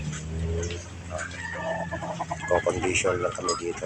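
Chickens cluck and call close by on a small farm, irregular bursts over a steady background, while a person speaks over them.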